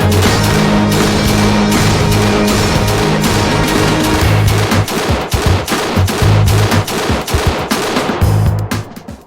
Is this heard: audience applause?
no